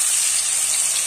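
Water poured into frying masala in a pan while cooking nimona: a loud, continuous hiss of sizzling with no voices, filling the short moment.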